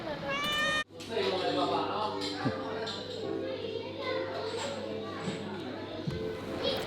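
A brief, high cat meow opens the clip, then a steady hubbub of voices and outdoor bustle carries on without it, in a seaside town in Nardò, Puglia, Italy.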